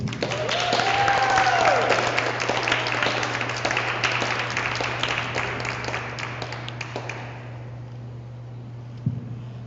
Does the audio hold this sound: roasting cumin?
no